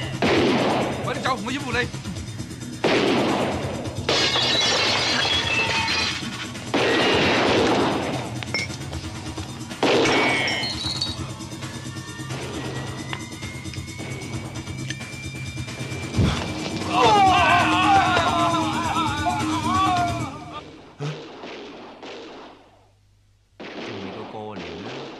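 Gunshots and crashing smashes from a 1990 Hong Kong gambling comedy film scene come as several loud bursts spread through the clip, mixed under dialogue and a background score.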